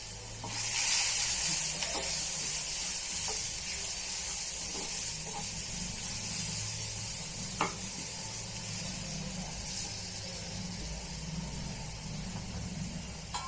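Potatoes spiced with chili powder and turmeric fry in a pan with a steady, close sizzle throughout, joined by occasional scrapes and clicks of stirring and no talking.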